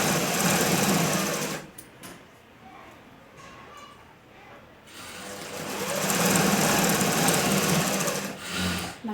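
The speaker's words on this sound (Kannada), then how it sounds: "ನಾ ಈಗ ಸ್ಟಿಚ್ ಮಾಡ್ಬೇಕಂತ ಮಾಡಾಕತ್ತೀನಿ" A sewing machine stitches a kunchigi hood, running loud and steady for about two seconds, pausing briefly, then whirring again at length near the mic, with only faint background between runs.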